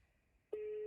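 A steady electronic telephone tone switches on abruptly halfway through after near silence and holds without a break to the end, clear and close, like a call ringing through on the line.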